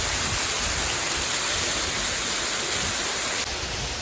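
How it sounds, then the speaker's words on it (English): Rushing water at Blizzard Beach water park, Walt Disney World, a loud, continuous broadband hiss and roar of falling, flowing water with no voices. "I really do love the sound of rushing water"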